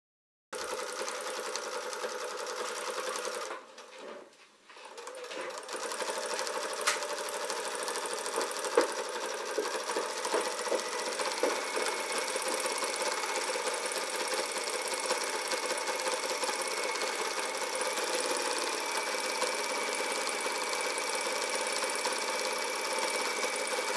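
A sewing machine stitches a seam 1 cm from the top edge of a puffer jacket panel, running in a steady fast mechanical whir after a brief pause near the start, then continuing evenly to the end.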